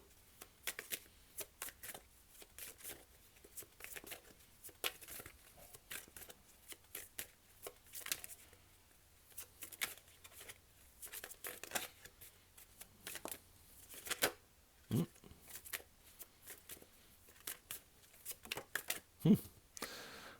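A deck of tarot cards is shuffled and drawn by hand, giving repeated soft riffles and flicks of card stock over about twenty seconds, with occasional sharper slaps of cards being laid down.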